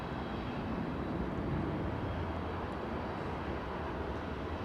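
Airliner arriving at Heathrow from JFK, a steady broad engine roar filling the whole stretch, constant and loud with no gaps.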